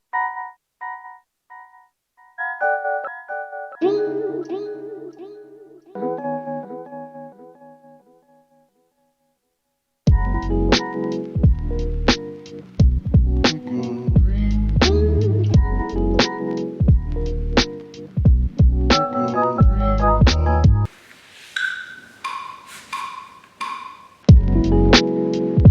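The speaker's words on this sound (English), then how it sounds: "raising them all up by an octave, so they're all an octave higher, and putting a delay on the track like an echo." Lo-fi beat in Ableton with sampled chops pitched up an octave and run through an echoing delay, starting as sparse bright melodic stabs, then joined by punchy drums after a short silence.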